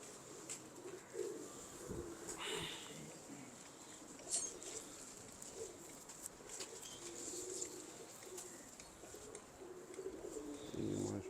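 Pigeons kept by a fancier softly cooing in low repeated calls, faint and intermittent under background noise and a few brief sounds.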